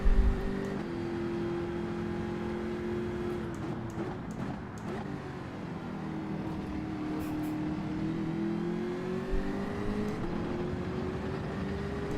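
Ferrari race car in Gran Turismo 7 racing, a steady engine drone with shifting pitch that holds and rises through the lap, moderately loud and continuous, with no voices over it.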